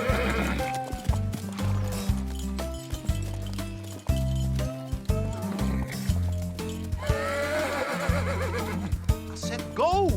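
A horse neighs and whinnies over steady clip-clop hooves, loud and close, mixed with bright music and a few voices at a race.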